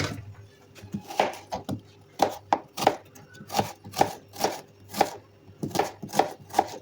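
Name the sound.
chopping onions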